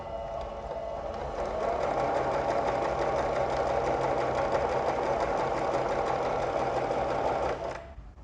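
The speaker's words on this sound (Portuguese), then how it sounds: "e vou costurar." A domestic sewing machine stitching fabric at tension set between 3 and 4, a steady fast whirring hum running continuously for about seven seconds before stopping, close and loud with no talking.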